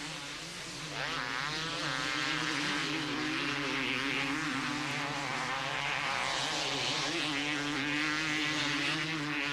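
Honda motocross motorcycles race at a 1990 Dutch national event as leaders lap the tail enders. Engines whine and buzz loudly and steadily throughout, with shifting pitch as bikes rev past.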